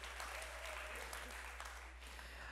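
Audience applause and cheering at an ocean summit in Newport, a dense, steady patter of clapping from a large crowd heard at a distance over a low electrical hum.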